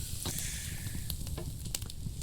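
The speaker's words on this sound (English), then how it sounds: "Ooh, nice sizzling noises." Food sizzles over an open cooking fire in the medieval survival game Medieval Dynasty, a steady crackling hiss with scattered sharp pops, moderately quiet and alone without talk.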